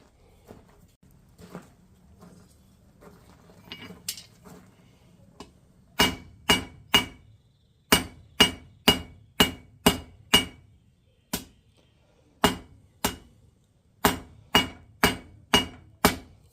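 Hammer blows forging a lantern hanger and drive-in hook on an anvil, ringing metallic strikes in steady bursts of several hits with short pauses, loud and close, after softer scattered tapping at the start.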